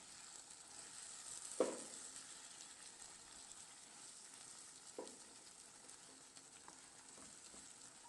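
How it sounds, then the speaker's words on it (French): A dish simmers in a covered pan with a little added water, giving a soft, steady sizzle and bubbling hiss throughout, quiet and close, with a couple of brief louder pops. "Ensuite, je vais ajouter un tout petit peu d'eau. Je vais mettre le couvercle et laisser cuire à peu près 10 minutes."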